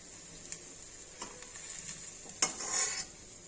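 Banana flower dumplings frying in oil, a soft steady sizzle with a few light scrapes of a utensil in the pan and one sharper clink near the end, quiet and close, with no talking.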